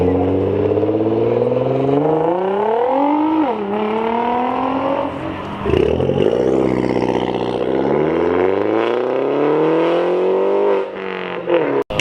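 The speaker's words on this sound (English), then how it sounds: "GTR number 2 rolling out." A Nissan GT-R rolls out of a Minneapolis car meet, its engine revving loud and close in rising and falling sweeps as it pulls away, with a crowd's voices faint underneath.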